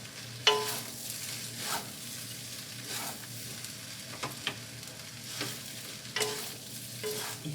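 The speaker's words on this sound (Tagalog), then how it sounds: "Ihalo natin ng mabuti guys para mamix sila ng husto" Pancit noodles being stirred and fried in a pan, a steady sizzle under repeated scraping strokes of a utensil. It is close and regular, with no talking.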